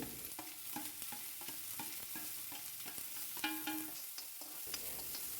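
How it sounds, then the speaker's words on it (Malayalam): Quiet, steady sizzling in a pan with repeated light scraping strokes as chopped onion, green chili and ginger are stirred and sautéed. "സവോളയും പച്ചമുളകും ഇഞ്ചിയും ചെറുതായിട്ട് അരിഞ്ഞ് അതും ഇട്ട് വഴറ്റുകയാണ്"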